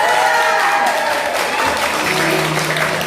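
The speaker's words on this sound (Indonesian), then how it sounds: "Kelompok B, berikan tepuk tangan yang meriah untuk pasukan." Group B of a quiz game crowd breaks into loud sustained applause, many hands clapping together with a few shouts mixed in, steady throughout.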